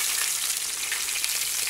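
Meat frying at a dacha sizzles loudly and close up with a dense, crackling hiss that holds steady throughout, with no speech.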